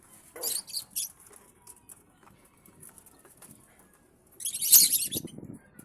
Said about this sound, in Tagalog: Napakaganda ng tunog niyan kapag namamarako tsaka nagtatawag ng babae, ng pares.